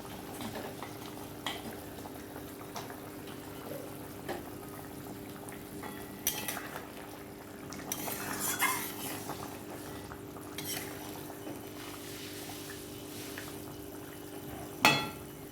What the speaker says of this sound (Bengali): ঝোলটা ফুটে গেছে টকবক করে